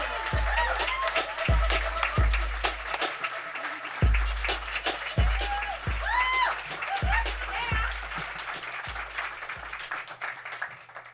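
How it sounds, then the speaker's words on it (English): A room applauds Nini, steady clapping that runs throughout over heavy low thumps and tonal swoops, the claps loud at first and gradually thinning out. "Please give a round of applause for Nini."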